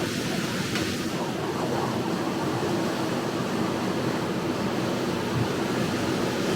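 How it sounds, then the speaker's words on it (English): Steady broadband wash of water rushing past the hull of a Tiara 48 LS boat with Mercury 600hp V12 outboards, continuous and fairly loud, with a low engine-like rumble underneath and no clear talk. "And now you hear water noise"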